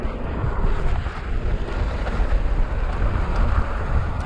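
Gusty wind roaring across the microphone on the Cajon Pass single-track mountain bike trail in Hesperia, California, a steady, loud rushing noise with no talk.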